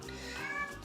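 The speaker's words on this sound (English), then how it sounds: "that's my cat meowing in the background" A house cat lets out a brief meow in the background, a short tonal cry heard faintly over room noise.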